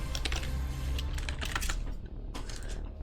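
Computer keyboard typing picked up on a caster's microphone during a Heroes of the Storm match broadcast: rapid, fairly close clattering keystrokes in a continuous burst, steady throughout with a brief pause near the end.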